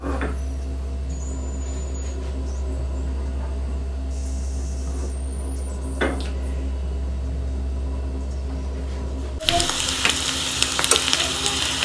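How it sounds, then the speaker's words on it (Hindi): Onions hit hot oil briefly near the end for biryani tempering, a sudden loud hiss that takes over after a long stretch of low steady hum and quiet kitchen background. "लास्ट में प्याज का तड़का लगाया जाता है"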